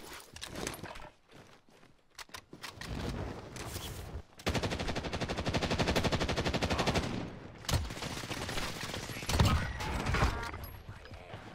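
Sniper rifle gunfire in an Iron Trials video game match, with sharp shots standing out among a dense mix of game noise, footsteps and rapid impacts, under occasional talk.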